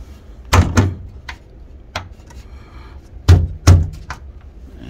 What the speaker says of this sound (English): then we're gonna close the door